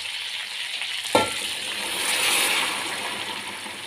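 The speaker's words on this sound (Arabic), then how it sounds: "نبدا بقى دلوقتي يا حلوين ننزل عليها بالميه السخنه" Hot water poured onto chicken frying in the pot for a one-pot Saudi kabsa: a steady sizzle that bursts into a louder, rushing hiss and bubbling as the water hits, close up with no talk.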